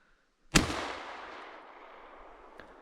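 A single shotgun blast rings out during a pigeon hunt, a sharp loud crack followed by a long outdoor echo that slowly fades, with a faint click near the end and no talking.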